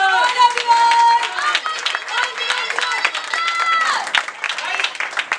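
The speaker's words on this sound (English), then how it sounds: "So guys, give a round of applause for everyone." A class of children claps after a Mahabharata role play in an English lesson, uneven scattered clapping under lively overlapping young voices and chatter, close and fairly loud.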